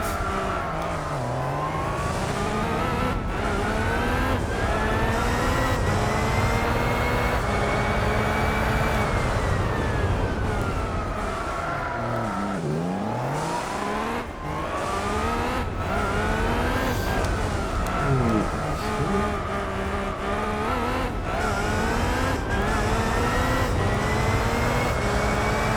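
An 1100-horsepower race car engine boosted by nitrous in Gran Turismo 4 roars loudly and continuously, its pitch climbing through gears and dropping on shifts, sustained throughout.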